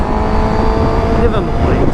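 Car passing close on a road, its engine and tire noise loud and steady across two seconds and rising slightly near the end, with someone talking over it.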